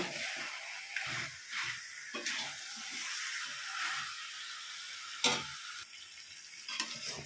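Chicken and garlic sauté in a pan, a steady close sizzle and hiss broken by the scrape and clack of stirring every second or so, with no talking.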